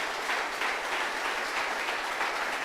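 Church congregation applauding during a Spanish-language sermon, a sustained wash of many hands clapping at moderate volume, even and continuous with no talk over it.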